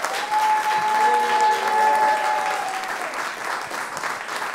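A studio audience at an Occitan TV show recorded in Sète claps in a full, continuous wave that slowly eases off, with a faint held tone and some voices beneath it.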